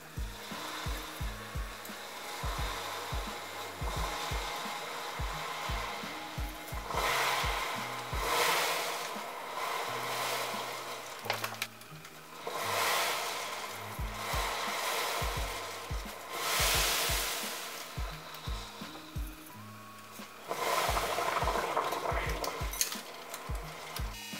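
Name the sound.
wire brush buffing Matchbox diecast car bodywork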